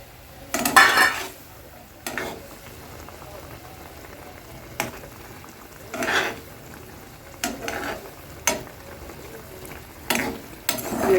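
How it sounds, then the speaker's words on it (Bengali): Eggplant pieces for doi begun are tipped into a pan and stirred, giving scattered clinks and scrapes of a spoon against metal over a faint sizzle, with occasional soft talking in between. "এবার আমি এটাকে বেগুনগুলোকে সব দিয়ে দেবো"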